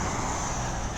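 Cars pass along a community street during a walk, a steady broadband road rush with nothing else standing out over it.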